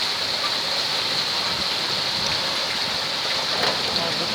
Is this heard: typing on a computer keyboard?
no